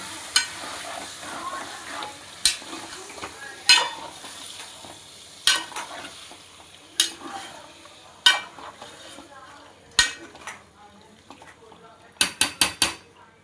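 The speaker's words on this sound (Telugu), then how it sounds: "ముందుగా శుభ్రం చేసుకున్నటువంటి ఈ నాటుకోడి చికెన్ ముక్కల్ని దీంట్లో వేసుకుంటున్నామండి" Cleaned country chicken pieces are tipped into a hot pan for Andhra-style natukodi pulusu, followed by a soft sizzle and sharp metal spoon clanks against the pan at irregular intervals, ending in a quick burst of scraping taps.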